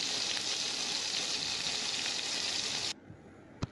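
Tofu sizzles steadily in hot oil for a few seconds, then the hiss drops away and a brief clink follows.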